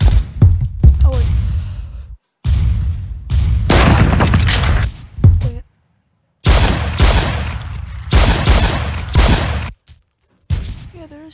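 Bursts of video-game gunfire in Roblox, rapid automatic volleys and single loud shots in clustered bursts separated by brief pauses, close and harsh, with a voice talking over parts of it.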